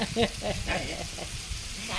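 Pork sizzles on a Thai mookata grill at a home party, a crackling frying hiss with bursts of stirring and clinks, while voices talk over it.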